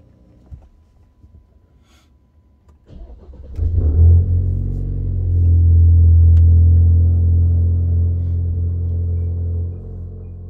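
An Alfa Romeo Giulia fitted with a throttle controller cranks and catches, its engine swelling into a loud, steady idle rumble that holds close and strong after start-up, with no talk over it.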